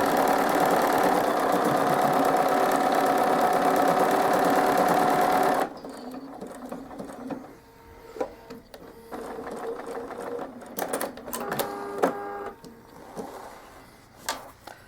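A sewing machine stitching decorative stitches runs with a loud, fast, steady mechanical whirr for several seconds, then stops, followed by quieter clicks and handling noises.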